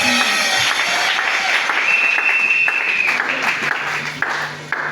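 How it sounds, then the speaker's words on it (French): A church congregation applauding right after a couple is declared married, sustained dense clapping with some voices and whoops mixed in, loud and near, tapering slightly at the end. "Acclamez très fort."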